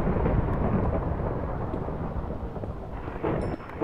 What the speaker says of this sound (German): das ist jetzt normales Gewitter